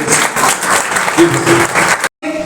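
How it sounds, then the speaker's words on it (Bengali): Loud, dense applause from a crowd at a government ITI college event claps continuously, cutting off abruptly near the end before a brief burst resumes. "বিরাট বড় একটা হাততালি হোক।"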